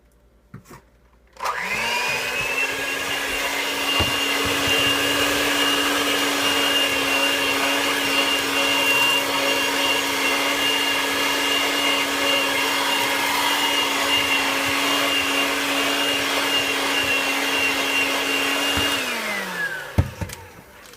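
An electric hand mixer whirs steadily for about seventeen seconds, beating vanilla frosting made with milk and powdered sugar for a rustic flag cake, a loud even motor hum that starts and stops abruptly, with no talking.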